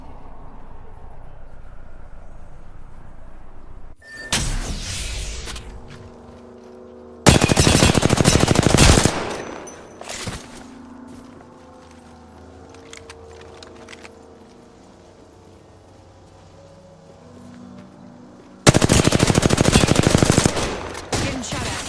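Bursts of automatic gunfire from Apex Legends come in three loud volleys separated by quieter stretches of game ambience and scattered shots, with no talking.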